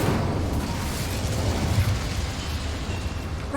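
Incendio fire spell cast in Hogwarts Legacy, a rumbling whoosh of flame that swells and fades over a few seconds, dense and low, with no talk.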